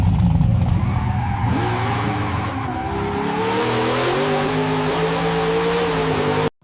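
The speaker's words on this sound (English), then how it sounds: "engines roaring, and then shot 2 would be a close-up on their tires with burnout smoke" AI-generated cars roar with their engines revving hard while the tires burn out. A loud, continuous engine drone rises in pitch under squealing tire tones and cuts off abruptly at the end.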